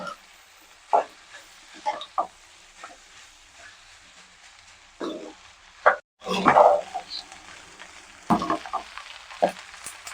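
Veg fried rice with garam masala, vinegar and soy sauce being stirred in a pan, producing intermittent scraping and tossing sounds with a soft sizzle, the clatter of the spatula coming in irregular bursts.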